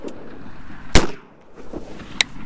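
A single loud shotgun blast rings out during a goose hunt, a sharp broadband crack with a short decay, followed later by a fainter distant pop; hunters talk quietly around it.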